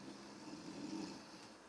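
A voice fakes a drawn-out, raspy snore as he plays a boy dozing off over a book, quiet and continuous with no other sound.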